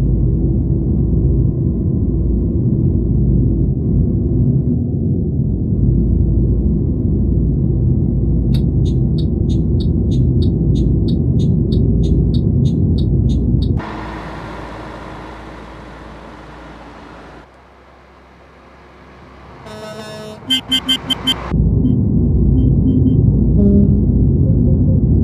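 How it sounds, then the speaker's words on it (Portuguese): In a video game, a bus with a Scania engine sound mod for the G7 1200 labours up a hill, giving a loud, steady low rumble that eases and dips midway before surging back. Brief electronic beeps chirp in between. "Reparem que o ônibus perde velocidade aqui na subida por conta da adequação de peso do ônibus."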